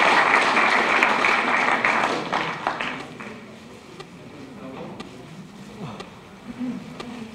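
A conference audience claps warmly for the speakers, a dense burst of applause for about three seconds that thins into scattered claps and fades into a quieter room with faint voices.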